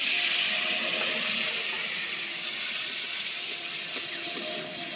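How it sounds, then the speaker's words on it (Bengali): Pumpkin puree frying in ghee gives a steady, even hiss that holds close and unbroken from start to finish, with no voices. "এটাকে ঘিয়ের সঙ্গে ভালো করে ভাজতে হবে"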